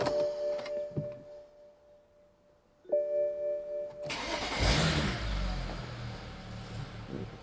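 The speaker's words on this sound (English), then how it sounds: "Let's start her up and see what noises we get." A BMW 335i with the N54 engine cranks and fires up after a few faint clicks, then settles into a loud, close idle with no talking.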